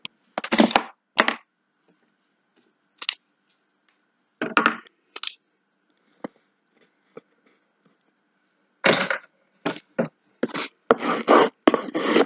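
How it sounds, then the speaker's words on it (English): Paper being burnished down by rubbing while covering a small mini suitcase craft project, heard as scattered dry scraping strokes, some single and some in quick clusters, close up with quiet gaps between. "Burnish your papers down."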